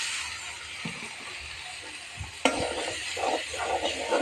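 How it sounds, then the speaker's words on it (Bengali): Prawns sizzle in a pan with fried onion, turmeric and ground coriander, a close continuous hiss broken by a sharp knock and repeated stirring scrapes toward the end, with no voices. "এখন আমি চিংড়ি মাছটাকে ভালো করে ভেজে নেব।"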